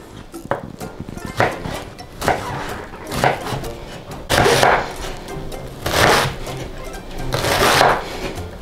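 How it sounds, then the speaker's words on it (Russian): A knife slices beetroot and cabbage into thin strips for borscht, giving close, muffled chopping strokes in irregular bursts roughly every second, with softer clatter between them. "Потом нарезаем свеклу и капусту соломкой."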